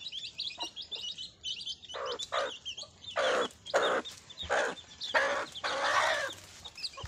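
Hens cluck and chirp around a home in the Konkan countryside in the evening, a run of bright, irregular clucks and squawks in bursts, close by, with thin tweeting behind.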